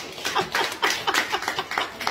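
An audience applauds in praise of Jesus, giving a brisk run of overlapping hand claps at moderate volume that holds steady for about two seconds.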